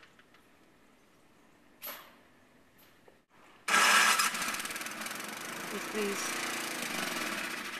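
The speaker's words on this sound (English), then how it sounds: "Doesn't look like the snowblower wants to work" A snowblower engine cranks and then catches during a snowstorm, roaring up loud and close and running steadily after a couple of short pulls, with a brief spoken word before it starts.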